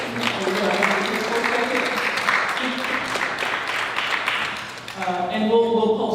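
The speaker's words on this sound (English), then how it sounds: "So please join me in thanking Alfie Smith" An audience at a community event breaks into sustained applause, dense clapping that holds steady for several seconds and then thins out near the end, while voices murmur underneath.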